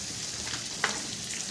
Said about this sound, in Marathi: डांगरही मस्त तेलामध्ये फ्राय होईल